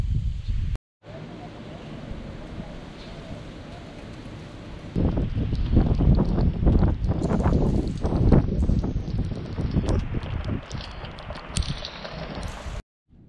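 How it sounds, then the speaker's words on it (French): Wind ahead of Hurricane Grace buffets the microphone in heavy rumbling gusts, quieter at first, then stronger and louder through the middle, with a brief cutout at the start. "il y a juste un petit peu de vent"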